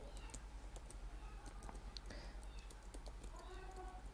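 Light, scattered keystrokes from typing C code on a computer keyboard, soft and fairly close over a steady low hum and background noise, with no voice.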